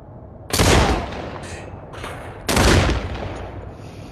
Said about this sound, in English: Am I being shot from two places?